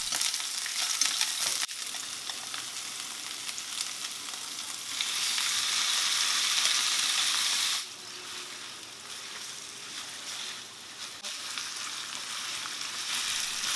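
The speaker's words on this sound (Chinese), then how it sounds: "洋葱炒香之后，就可以倒入刚刚腌制好的肥牛片。" Marinated fatty beef slices stir-fried with onions in a hot pan: continuous loud sizzling that surges and eases as the spatula tosses the meat, close by, with no talking.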